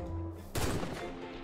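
A single loud sniper shot fired in a Minecraft hide-and-seek game bursts out abruptly over quiet background noise and then trails off in a short, fading tail.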